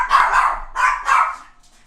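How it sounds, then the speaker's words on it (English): A chihuahua barks in two quick pairs of sharp, high yaps, close and fairly loud, then goes quiet. "chihuahuas barking"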